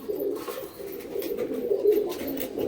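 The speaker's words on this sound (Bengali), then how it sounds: "ওইদিকে লাল কাঠ পায়রাটা ঘর দিয়ে বেরিয়ে গেছে" A red wood pigeon that has slipped out of its loft coos in a low, rolling, continuous murmur, close and steady for a few seconds.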